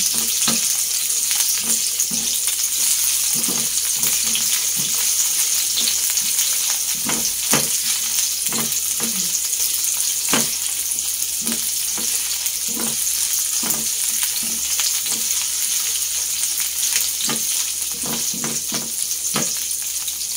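Ampalaya (bitter gourd) sautéing in a pan, giving a steady broadband sizzle throughout with repeated spatula scrapes and stirring clicks at an irregular rhythm, close and fairly loud, with no talking.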